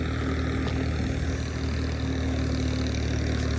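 Tractor engines with trolleys hitched rumble steadily nearby, a continuous low idling drone with no talk over it.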